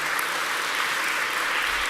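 An audience at a communities summit applauds the panel members, a dense, steady round of clapping that fills the whole stretch without pause.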